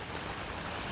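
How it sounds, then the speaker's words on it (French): Steady rain falls outdoors, a brief, even patter of faint broadband hiss with no voices. "Oh, là, il pleut vraiment."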